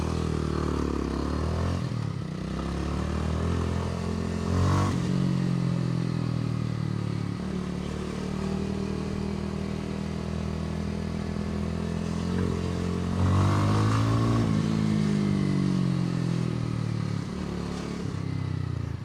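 A Kawasaki W230 retro motorcycle rides through city streets, its steady single-cylinder engine droning continuously with a couple of rising throttle swells, heard up close with no talking.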